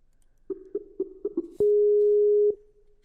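A telephone busy signal heard while trying to ring someone, opening with five short pulsed tones in a quick series, then a single long steady tone lasting nearly a second. The sound is clear and stands alone with no talk over it.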